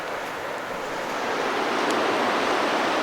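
Big river rapids near Haynes Point Provincial Park in Osoyoos rush with a steady, dense hiss of churning water that swells slightly louder partway through and stays fairly close, with no voices.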